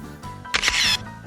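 A camera shutter clicks once during a circus-themed board game at home, a short bright burst standing out over quiet room tone.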